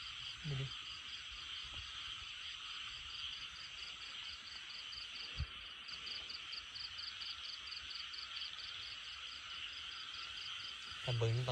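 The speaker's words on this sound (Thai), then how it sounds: "จับกบเหรอ" Frogs croak outdoors at night in a dense, steady chorus mixed with constant high insect trilling, with occasional brief rustles and knocks nearby.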